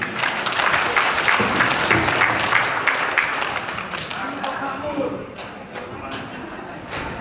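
An audience at an organisational inauguration ceremony in West Java, Indonesia applauds loudly, a dense crowd of clapping that continues steadily and eases slightly toward the end.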